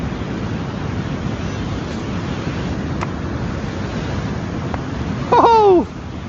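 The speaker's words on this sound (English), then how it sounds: "So it's windy." Outdoor wind blows as a steady, broad rushing noise over the microphone during outdoor play, with a brief high squeaky sound near the end.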